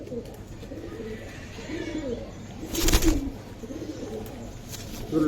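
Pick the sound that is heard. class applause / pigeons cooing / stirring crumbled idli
pigeons cooing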